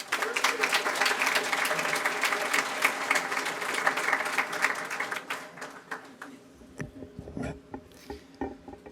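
A lecture audience claps steadily and loudly for several seconds as a professor is welcomed, then the applause thins to a few scattered claps and fades out.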